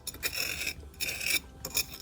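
Dried mortar is scraped out of cracks in a stone spring house wall, heard as three close, gritty rasping strokes with short pauses between them and no talking.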